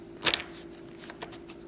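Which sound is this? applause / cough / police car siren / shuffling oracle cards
shuffling oracle cards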